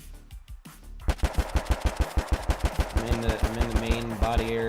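Automatic gunfire in a shooter game being built in Unreal Engine 5: after a short pause, a loud steady string of evenly spaced rapid shots, with ringing metallic tones building in the later part.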